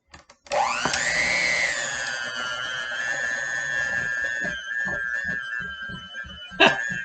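An electric mixer whirs steadily while beating orange cream cheese frosting, a loud continuous motor drone that rises in pitch at the start and holds with faint clatter, ending with a brief knock.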